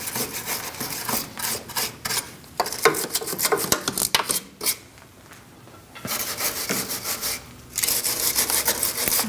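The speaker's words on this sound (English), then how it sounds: "I'm just using a wire brush" A wire brush scrubbing rust off the front suspension mount of a 2016-2019 Chevrolet Cruze during a lower control arm replacement, harsh close rasping in quick bursts with brief pauses.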